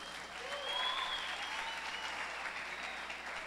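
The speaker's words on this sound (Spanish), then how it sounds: "Con un fuerte aplauso." Warm, steady applause from an evening audience at a Christian leadership talk greets an arriving guest, a dense even wash of clapping with no voices over it.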